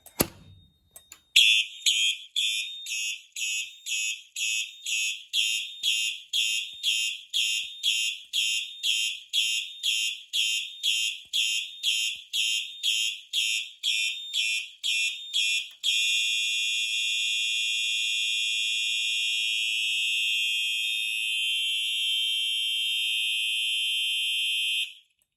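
Fire alarm system at a fire suppression test station going into agent release: a loud, repeating electronic tone sounding in fast pulses, then switching to a steady continuous alarm tone until it cuts off at the end.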